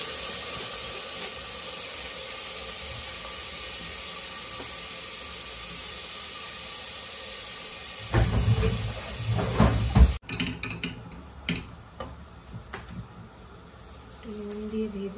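Vegetables and cardamom sizzle in hot oil while being fried for pulao, a steady soft hiss through the first half, then louder stirring clatters and bursts of frying close by.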